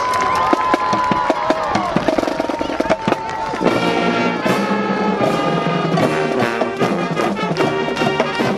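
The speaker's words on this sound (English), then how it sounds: "a big round of applause for our 2024 Marching Band and Color Guard" Crowd cheering and applause for senior marching band and color guard members at a high school senior recognition event, dense and loud with sharp cracks, shouts and a band playing throughout.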